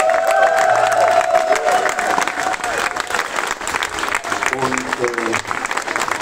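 A crowd at an outdoor tribute festival in Germany applauds and cheers in a dense, sustained wash of clapping, while a singer's voice and music carry on over it and someone briefly speaks.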